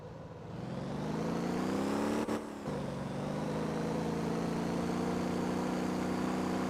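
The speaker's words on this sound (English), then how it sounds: "we're doing burnouts here" Engine of a car in the Motor Town driving game revving hard and steadily during burnouts, a loud sustained whine with a brief drop midway, no talking.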